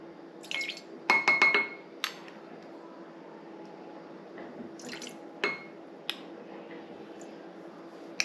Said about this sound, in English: Now I'm gonna do the 2 tablespoons of lemon juice.